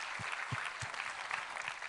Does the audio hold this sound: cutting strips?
no